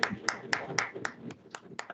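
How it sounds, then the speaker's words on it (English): A few people clap for a presenter at a hackathon workshop, producing about eight sparse, separate claps in a small room with no crowd swell and no voices. "Everyone, please give Miro a big round of applause."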